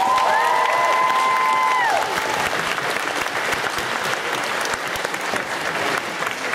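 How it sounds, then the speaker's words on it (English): An audience at the Amecon 2012 anime convention closing ceremony breaks into loud, sustained applause, with a brief electronic chime at the start and clapping continuing steadily to the end. "Big round of applause for Pete."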